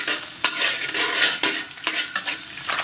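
Eggs sizzle in hot oil in a wok while a utensil stirs and scrapes through them, with several sharp clatters against the pan over a steady, close frying hiss.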